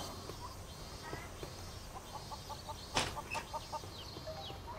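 Chickens cluck softly inside a coop in the video game Boku no Natsuyasumi 3, a rural summer countryside setting, with short repeated clucks over a faint ambient background and one brief louder burst.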